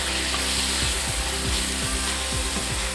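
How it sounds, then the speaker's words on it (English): Onions and chopped Scotch bonnet chili sizzle in a hot pan for green plantain porridge, a loud, steady hiss with small scraping clicks running throughout and no voices. "onions and the hot chili. You hear it sizzling."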